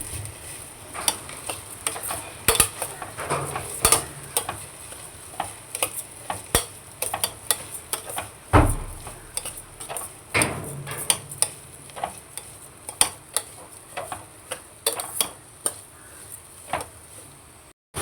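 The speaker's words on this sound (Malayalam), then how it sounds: "അരി ഒന്ന് വറുക്കാനാണ്" Rice grains rattle and scrape in a pot as they are stirred and roasted for ghee rice, with steady ticking clicks and a low sizzle throughout.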